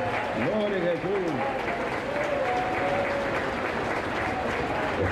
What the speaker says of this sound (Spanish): Aplauso para ti, Jesús